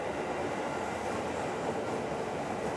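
A train rolls past on the rails at a station, a steady, loud, dense rumble of wheels and cars at close range, with no voices.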